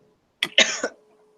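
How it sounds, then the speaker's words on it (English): One close, sharp cough breaks a near-silent room, a quick double burst lasting about half a second. "Sorry, I'm about to cough."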